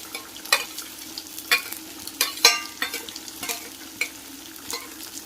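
Fried mustard seed tempering poured into boiling theeyal curry sizzles and crackles in sharp bursts over a steady bubbling simmer, close and fairly loud with no voices.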